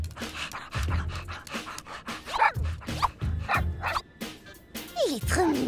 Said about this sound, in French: Il est trop mignon, son petit toutou.